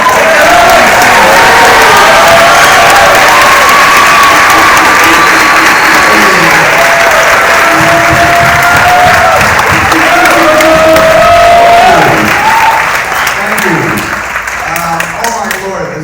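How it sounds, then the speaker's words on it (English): A Los Angeles premiere audience for the film Tusk bursts into loud, sustained applause and cheering for the writer, a dense roar of clapping and whoops that fills the room before slowly tapering off near the end. "you guys give a big, warm round of applause to the"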